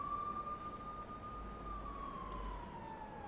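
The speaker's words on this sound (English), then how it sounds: "Look, at those police cars. Did something happen?" Police car sirens in the Persona 5 video game: a steady electronic wail that slowly rises and then falls, heard alone at moderate volume with no talking.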